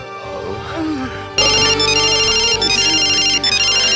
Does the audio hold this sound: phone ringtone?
yes